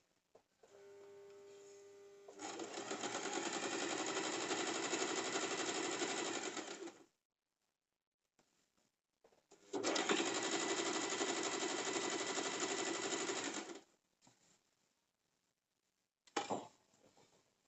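A sewing machine stitches the seam margins of cigar pant fabric in two steady runs of rapid mechanical whirring, each about four to five seconds long, separated by a quiet pause, with a short final burst at the end and no talking.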